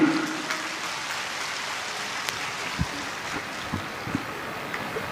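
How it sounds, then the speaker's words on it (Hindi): Sustained roar of applause from a large crowd at an outdoor political public meeting in Araria, Bihar, a dense, steady wash of clapping with no voices standing out. "जोरदार तालियों के बीच"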